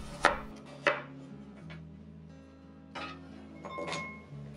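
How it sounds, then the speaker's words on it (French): A knife slicing half a carrot into thin rounds about 2 mm thick, a few crisp chops on a board separated by short pauses, close and fairly quiet. "Découpez une demi-carotte en rondelles de 2 mm d'épaisseur environ."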